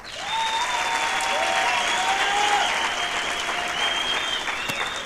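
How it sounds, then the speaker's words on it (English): An audience at a youth empowerment event in Mafikeng breaks into a big round of applause, dense and sustained at an even level, with a few whistles riding over the clapping. "Give everyone a big hand of applause."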